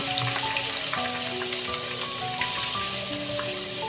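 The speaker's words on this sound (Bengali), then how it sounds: "5 ফোড়নটা একটু ভাজা হলে আমি এর মধ্যে পেঁয়াজটা ছেড়ে দেব, মানে পেঁয়াজ কুচিটা দিয়ে দেব।" Chopped onions sizzle and crackle steadily in hot mustard oil with panch phoron, the Bengali five-spice mix, in a home kitchen pan. A soft, continuous frying hiss runs alone throughout, with faint tonal sounds in the background.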